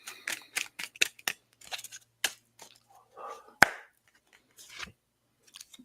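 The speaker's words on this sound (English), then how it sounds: "you guys heard me shuffling" Tarot cards are shuffled during a live reading, giving a run of sharp, close snaps and soft riffling bursts separated by short quiet gaps.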